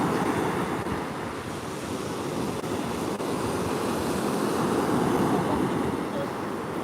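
Sea waves washing onto Caister Beach as the tide goes out, a continuous surf rush mixed with wind buffeting the microphone, with no clear talk.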